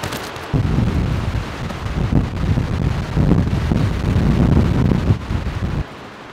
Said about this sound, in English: Quite heavy wind out there.